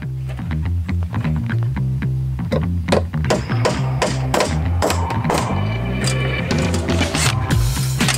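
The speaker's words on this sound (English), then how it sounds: "let's do some hammering." Repeated hammer strikes ring out on wooden beams in a collapsed barn being rebuilt in France, loud and close. The blows come in an uneven series with some quick clusters, and there is no talk.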